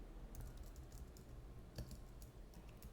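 Quiet, steady tapping of keys on a computer keyboard as a Linux command is typed, a run of small clicks spread across a few seconds with no talk.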